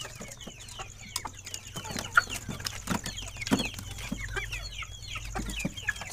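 Many chickens in a coop cluck steadily with short, overlapping calls and occasional sharper squawks, close by, and no one speaks.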